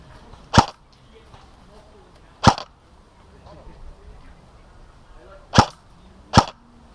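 Four sharp airsoft gun shots during an airsoft battle, one pair early and another pair a few seconds later. Each crack is short and fairly close against faint outdoor background noise.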